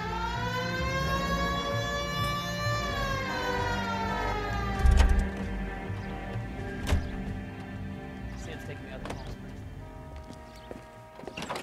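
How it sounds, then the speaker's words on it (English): A police car siren wails in the video game LA Noire Remastered, a loud rising-and-falling electronic tone that settles into a steady pattern under engine and street noise, with a brief spoken word. "Hit the siren."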